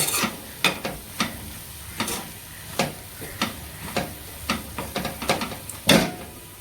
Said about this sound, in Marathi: कूट टाकूया शेंगदाण्याचं जास्त नाही टाकणार आहे मी मला आवडत नाही जास्त थोडंच टाकलं मिक्स करून मग याला परत शिजून द्यायचं